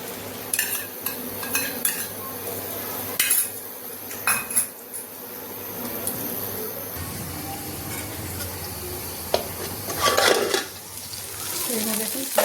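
Onions and potatoes frying in a pan sizzle steadily while a utensil scrapes and clinks against the metal in repeated stirring strokes, close and fairly loud.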